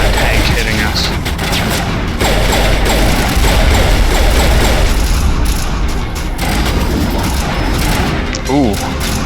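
A tank fires in the Mass Effect video game amid dense, loud, continuous gunfire and booming blasts, with a steady din of combat noise throughout.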